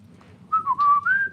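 A single person whistles a short, clear, rising and wavering tune, loud and close, with brief pauses between the notes.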